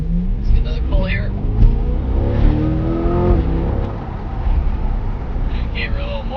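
A 2021 Chevrolet C8 Corvette's exhaust rumbles and rises through an acceleration pull, a steady engine drone climbing in pitch, with someone talking over it throughout.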